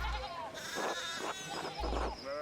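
Sheep bleat in the medieval video game Pentiment, giving several wavering, nasal cries in quick succession over a low rumbling background, close and clear.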